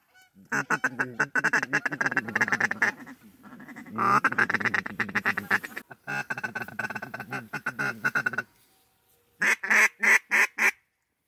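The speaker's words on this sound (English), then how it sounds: "Oh, oh yeah, ducks. A lot of ducks." A flock of ducks quacks loudly and continuously nearby, overlapping raucous calls in bursts with a brief pause before a final run of quacks.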